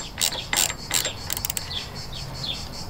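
A hand ratchet clicks in quick bursts while tightening bolts on a Suzuki DL650 V-Strom fuel tank, crisp metallic ticks close by followed by fainter, lighter clicking.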